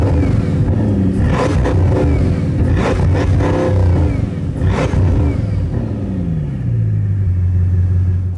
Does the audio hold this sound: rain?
no